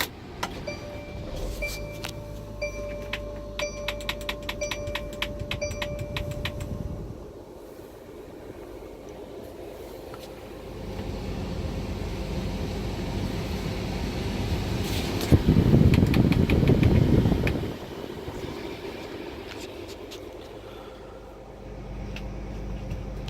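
A 2019 Mercedes-Benz Sprinter 2500 cargo van with a 3.0L V6 turbodiesel starts, then idles steadily with a low rumble, swelling briefly to a louder rev before settling back, heard from inside the cab with a fan hum.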